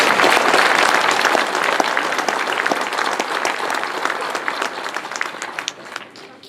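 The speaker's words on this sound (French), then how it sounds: "Ils méritent vos encouragements et vos applaudissements" Sustained applause from an audience at a municipal New Year's greetings ceremony in Comines, loud and dense at first, then thinning and fading toward the end with no voices over it.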